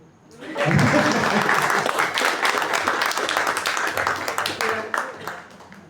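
An audience applauds at a poetry anniversary event in Asunción, Paraguay, with dense, steady clapping that swells quickly and holds for several seconds before tapering off, close and full.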